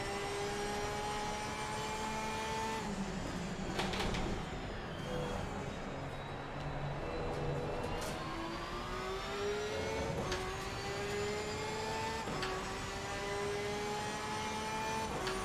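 A Porsche 992 GT3 R race car engine in the racing game Assetto Corsa Competizione at Valencia, revving hard through repeated rising gear pulls with sharp upshifts, a steady loud mechanical howl heard alone.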